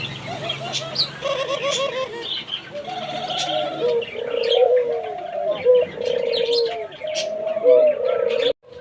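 A pair of Australian doves kept for sale coo in soft, repeated rolling phrases, close by, joined by scattered chirps and tweets from other caged birds, with faint talk underneath.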